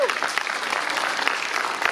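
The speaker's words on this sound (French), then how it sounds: "n'applaudissons pas trop vite" Audience applause fills a political rally meeting in Bobigny, France, a dense continuous clapping from a large crowd, loud and close throughout.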